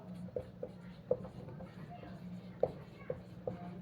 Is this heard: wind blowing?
no